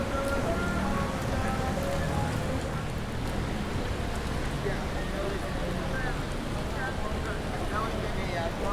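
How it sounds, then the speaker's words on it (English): Steady rain falls as Tropical Storm Hilary arrives over a city street in the Skid Row area, a constant hiss of drops filling the whole stretch, with faint street sounds and a voice talking underneath. "The rain's warm."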